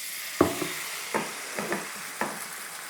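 Chive and flour pancake batter fries in a generous layer of oil, giving a soft steady sizzle broken by a few sharp scrapes and taps of a spatula or ladle, close by with no talking.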